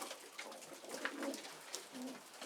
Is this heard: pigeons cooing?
yes